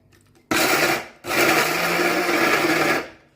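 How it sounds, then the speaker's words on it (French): A blender roars to life on oat flakes, cashews and peanuts, running in two loud bursts: a short half-second pulse, a brief pause, then a sustained grinding whir of nearly two seconds before it stops. "Attends, je vais mixer tout ça."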